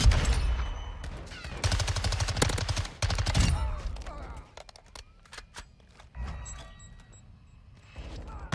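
An MX9 submachine gun fires in Modern Warfare 2, rapid loud bursts of automatic fire broken by short pauses, with quieter scattered shots and clatter between them.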